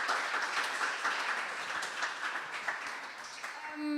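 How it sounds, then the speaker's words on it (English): Audience at a tech-startup funding conference panel applauds, a broad steady wash of clapping at moderate level that fades toward the end. "big round of applause"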